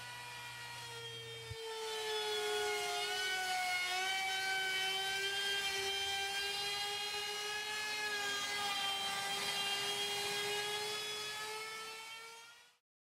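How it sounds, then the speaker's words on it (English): A laminate trim router with a 3/8 bottom-bearing flush trim bit cuts a sink opening in a Wilsonart HD postform laminate countertop, a loud high steady whine that spins up, holds for about ten seconds and then winds down. "use a laminate trim router with a 3/8 bottom bearing flush trim bit"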